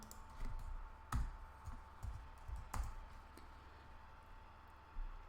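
Keys tap on a computer keyboard while steering a robot through ROS teleop, with scattered single keystrokes and a few louder clicks spread across a quiet background, no talking.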